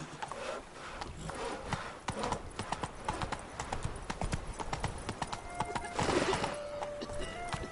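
Hooves of Geralt's horse Roach in The Witcher 3 trotting steadily in a rapid clip-clop rhythm, close and continuous, with a brief whinny near the end and game sounds around.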